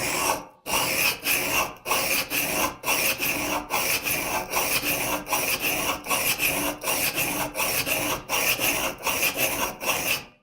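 A hand plane blade being sharpened on a whetstone by hand: steady back-and-forth rasping strokes in an even rhythm, close and fairly loud, with no voices.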